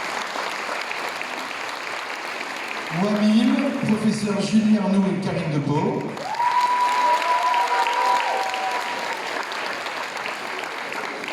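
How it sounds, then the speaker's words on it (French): Audience applause at a school concert in Watten, with an announcer's voice speaking over the clapping in the middle and a loud, steady crowd applause continuing throughout. "on peut l'applaudir"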